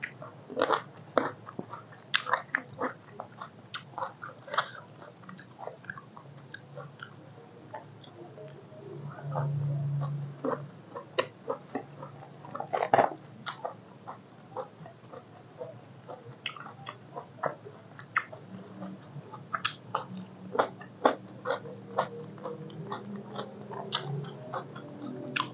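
Someone chews crunchy beef tripe, producing a steady stream of crisp little crunches and clicks close to the mouth with quiet background hum, no talking.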